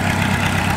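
A homemade tractor fitted with a VW Golf engine runs hard and steadily, its dense mechanical drone close and loud throughout, with no talk over it.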